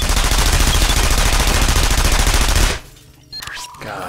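A Splinter Cell Conviction turret fires a loud, rapid, continuous stream of shots, then cuts off abruptly, leaving a quieter stretch of game sounds.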